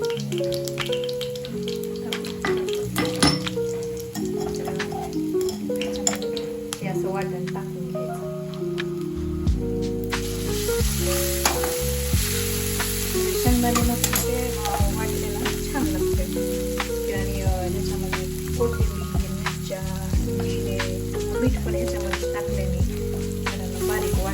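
Raw ground green chillies fry in oil in a pan with a crackling sizzle and scattered pops, while steady music plays loudly over the top throughout.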